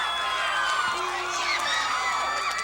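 Loud crowd at a 1985 Mid-South wrestling match cheering and whooping continuously through a melee in the arena, a dense roar of voices without a break.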